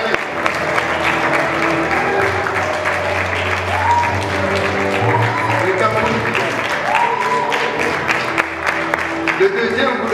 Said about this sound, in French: Applaudissez-le parce qu'il veut gagner, il va gagner.